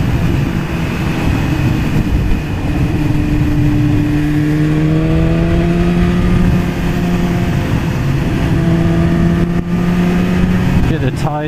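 BMW S1000RR motorcycle engine on a test ride, a loud continuous drone with rising and falling pitch as it pulls through gears, amid heavy wind rush, with a rider talking over it.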